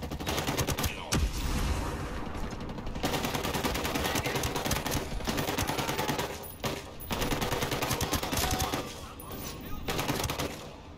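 Light machine gun firing in Ghost Recon Breakpoint: long sustained bursts of rapid, loud automatic fire, broken by a few brief pauses, with a voice speaking faintly underneath.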